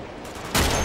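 Sniper gunfire in the video game Uncharted 2: a sudden loud burst of shots breaks in partway through, following a quieter stretch of game ambience, with no talking.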